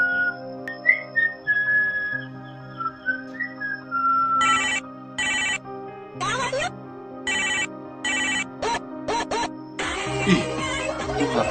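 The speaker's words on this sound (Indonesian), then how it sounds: "itu HP ku bunyi" Mobile phone ringtone sounding loudly and close, a melodic whistle-like tune giving way to repeated bright chiming bursts in a steady rhythm over a low background hum.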